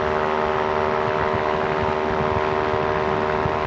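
An ultralight aircraft engine runs at full power, about 6,200 RPM, as a loud, steady, unbroken propeller drone with a strong buzzing hum close by.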